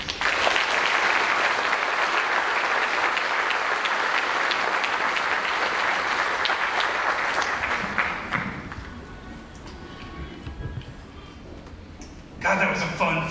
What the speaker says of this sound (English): So please give a rousing CFK Tudor applause to the Honorable Ed Scales.